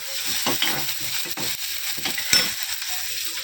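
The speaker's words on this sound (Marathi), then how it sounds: "तूप पिळून घेते चपात्या बनवते" Ghee squeezed onto chapatis cooking on a hot pan gives a close, continuous sizzle, broken by repeated short scraping and pressing bursts, with no voices.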